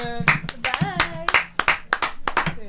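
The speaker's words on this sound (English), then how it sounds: "round of applause" A studio audience at a Christmas video game show claps in a brief round of applause, with loud talking running over the clapping.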